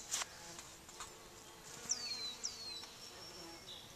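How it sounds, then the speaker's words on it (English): Bees buzzing around blooming flowers in a June garden, faint, intermittent buzzes coming and going as insects fly near, over quiet outdoor background with a few soft clicks. "Ah, there's one buzzing around right there."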